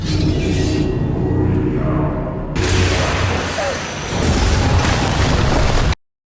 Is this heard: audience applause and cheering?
no